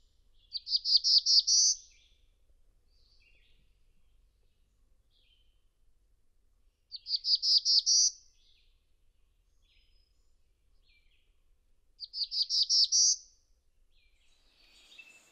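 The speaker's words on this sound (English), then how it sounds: "So we say it's a rising up, buzzing up to the blue sky for the black-throated blue warbler." A black-throated blue warbler sings three short, buzzy phrases that rise in pitch, each about a second long and spaced several seconds apart, clear against a quiet background.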